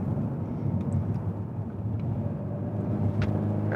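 Peugeot 308 GTi 270 hp hot hatch held in third gear on a small track, giving a steady, fairly quiet engine and road drone from the cabin with faint brief ticks and no speech.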